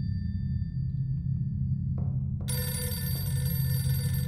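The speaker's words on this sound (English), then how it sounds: "What if I don't answer the phone?" A telephone rings inside the horror game The Mortuary Assistant, a bright trilling bell that starts partway through and rings steadily over a low, constant ambient drone, with no voices.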